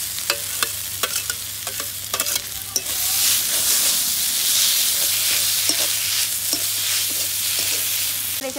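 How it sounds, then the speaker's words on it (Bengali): Chopped shrimp hit hot oil with spices and fried pointed gourd seeds, bursting into a loud, steady sizzle after a few clacks of stirring, then frying continuously in the pan. "এবার এই কুচনো চিংড়ি মাছগুলো দিয়ে দিচ্ছি"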